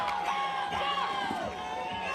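Spectators at a dog diving competition cheer and whoop before a dog's final jump, a moderate, lively wash of crowd excitement with rising and falling voices.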